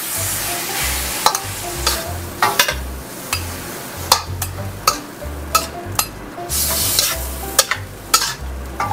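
Seafood chow mein with fried tofu being stirred in a pan, utensils clacking and scraping in a steady rhythm of sharp knocks over a continuous low sizzle of frying, close and fairly loud, with no talking.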